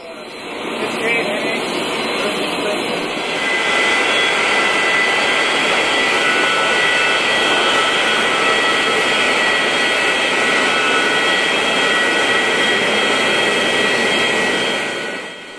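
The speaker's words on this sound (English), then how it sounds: "This was the NWT Air Boeing 737-200 that brought me into Rankin Inlet prior to the Queen's arrival." Jet engines of an NWT Air Boeing 737-200 at Rankin Inlet roar loudly and steadily, holding a constant broadband rush with a high whine that swells early and continues throughout.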